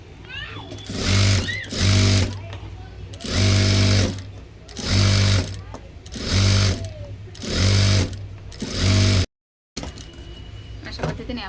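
An electric sewing machine stitches a blouse in six steady bursts of rapid whirring, each lasting about a second, separated by short pauses, with a brief dropout near the end.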